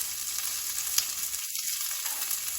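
Shaved onions, fennel and garlic sauté in a pan, making a continuous bright sizzle with a soft clink of stirring partway through.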